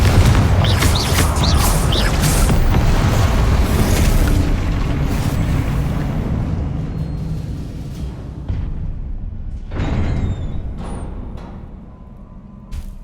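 Confringo blast spell in Hogwarts Legacy combat on max difficulty: a loud, sustained booming explosion rolls out and slowly fades, with a second burst near the end under dense game noise.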